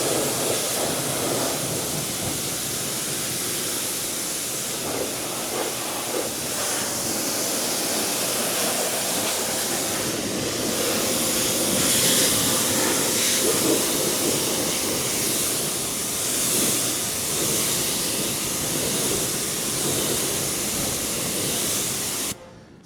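A hose or pressure rinse sprays water over a car wheel and tire in a continuous hissing, splashing stream for over twenty seconds, fairly loud and close, then cuts off abruptly.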